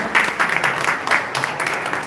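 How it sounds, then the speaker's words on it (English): Brief burst of audience applause at a city awards livestream event, a few seconds of mid-distance clapping with uneven swells. "a big round of applause for Author's Nest"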